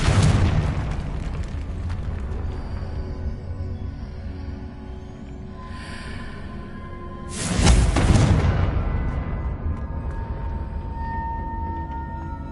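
A Confringo spell explosion in Hogwarts Legacy: booming blasts open the clip and die down into a lower rumble, then a second loud explosive burst erupts around eight seconds and fades into a ringing tail.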